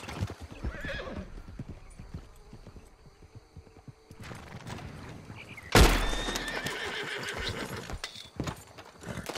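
A horse in the video game Red Dead Online clip-clops and whinnies, hoofbeats fairly faint with a sharp louder burst midway, set in foggy hunting terrain.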